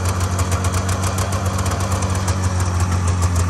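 A 1997 Polaris 500 Touring Classic snowmobile engine idles steadily just after starting, a loud, continuous low rumble with a throbbing two-stroke beat and no talking.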